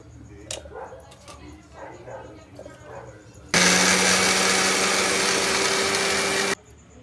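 A kitchen mixer grinder starts abruptly and runs as a loud, steady whir for about three seconds, then cuts off; quieter voices and small sounds come before it.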